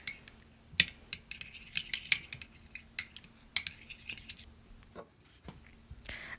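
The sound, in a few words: stirring oil into aloe vera lip balm mixture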